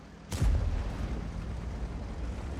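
A single heavy artillery shot booms in World of Tanks, a sharp blast followed by a rolling low rumble that decays slowly.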